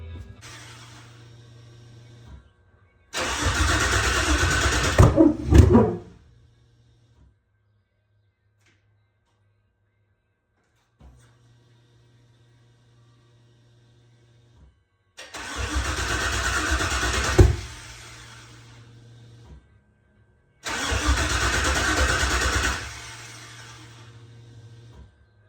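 An LS-swapped third-generation Camaro cranks and fires three times, each loud burst lasting a few seconds before dropping away, with quiet gaps and a low hum between attempts.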